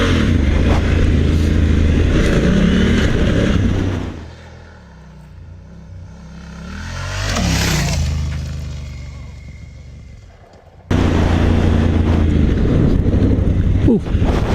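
Motorcycle on Kenda Big Block 80/20 street-style tires riding a sandy-topped hard-pack dirt road, a loud steady engine drone with wind buffeting, dropping quieter through the middle before roaring back up near.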